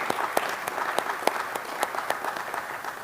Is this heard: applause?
yes